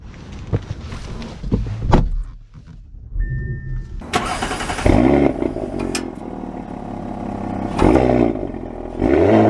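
A 2024 Audi SQ5 engine cranks and catches near the mic, then settles into a steady idle with a brief rev swell midway.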